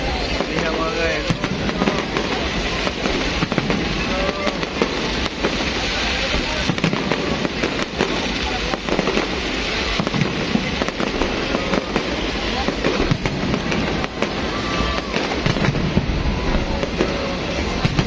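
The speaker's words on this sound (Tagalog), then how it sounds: "Firework." New Year fireworks display over Cebu, a dense continuous roar of bursts and crackles that goes on without a break. Crowd noise and voices talk over it throughout.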